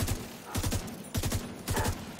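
Rapid bursts of video game gunfire, three quick volleys of several shots each, loud and close with short pauses between them.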